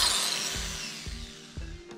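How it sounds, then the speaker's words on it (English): A drill whirs as it bores into a pole, its tone winding down with a few soft knocks and thumps along the way. "We're just going to drill a hole."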